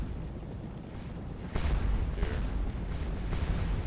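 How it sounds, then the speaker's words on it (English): Artillery fire from a Napoleonic Waterloo battle in the video game Scourge of War: Waterloo: several deep booms, some near and some distant, roll over a steady low battlefield rumble. "This is the 5th Division's artillery."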